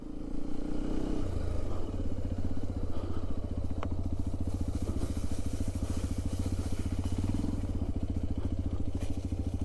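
A Hero Xpulse 210 motorcycle is ridden at a steady pace, its single-cylinder engine thumping in a fast even pulse up close, with faint rattles and wind over the constant drone.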